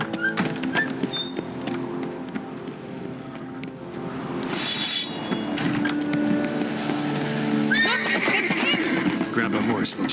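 A horse whinnies loudly amid hoof clip-clops and game ambience in The Witcher 3: Wild Hunt, with a second whinny near the end and voices in the background.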